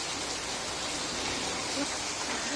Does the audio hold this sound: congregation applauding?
no